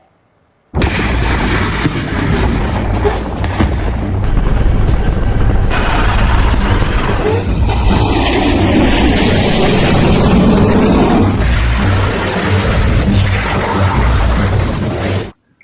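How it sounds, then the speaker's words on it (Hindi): A BrahMos missile launches from the Indian Navy warship INS Imphal at sea, a sudden loud roaring blast that rises into a sustained, powerful rushing thunder lasting over ten seconds. "आईएनएस इम्फाल से पहली बार ब्रह्मोस मिसाइल लॉन्च करके नौसेना ने ताकत की एक नई मिसाल पेश की है"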